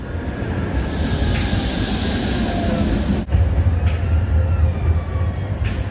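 A tram rolls along tram lines on a Sofia street, a loud steady rumble with grinding rail noise that dips briefly before swelling again nearby, with no talking.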